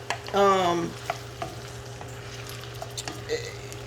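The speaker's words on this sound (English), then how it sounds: "I have 1/2 of a green bell pepper and one whole onion, right? And we're just gonna saute that." Green bell pepper and onion sizzle softly in a pan for meatloaf, a low frying hiss with a few light utensil taps, while a brief voice-like tone rises near the start.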